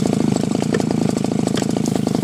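A TABATA 32 cc grass cutter engine revs hard at full throttle, a loud, close, rapidly pulsing drone that holds steady throughout.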